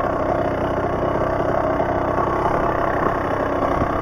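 Kawasaki KX85 dirt bike engine running steady and loud throughout, a low uneven drone as it bogs down without revving up, with no talking.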